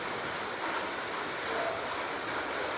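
Heavy rain falls outside with a dense, steady hiss and a low rumble, unbroken and fairly loud throughout, no voices.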